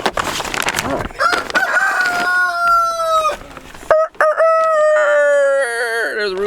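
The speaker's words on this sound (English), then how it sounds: "There's a rooster over here." A rooster on a homestead near a greenhouse crows loudly and close, with two long drawn-out calls, the first broken by clucking and rustling in between.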